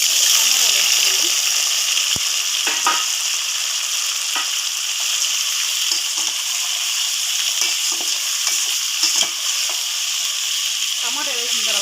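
Chopped tomatoes with curry leaves frying in a pan, giving a constant bright sizzle and hiss with occasional soft stirring clicks and faint bubbling, and a voice speaking quietly underneath.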